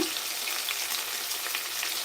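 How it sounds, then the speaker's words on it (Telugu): Onions and green chillies frying in hot oil in a pan, giving a steady, dense, close sizzle that continues evenly without pause. "ఆయిల్ హీట్ అయ్యాక ఉల్లిపాయలు పచ్చిమిర్చి వేసుకున్నాను"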